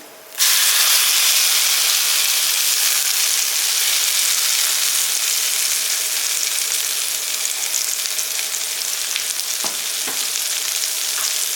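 A sudden loud sizzle erupts as a wet ground paste for a pirandai thokku hits hot oil, then settles into a steady, dense frying hiss that continues close by.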